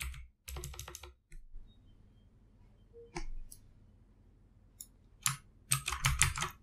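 Clicky typing on a computer keyboard as a ping command is entered at a Windows command prompt, in several short bursts of keystrokes separated by pauses, close and fairly loud with no talking.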